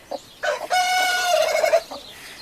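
A hen, handled while being moved to new ground to break her broodiness, gives a short run of loud clucks and a drawn-out call, close by with no talk.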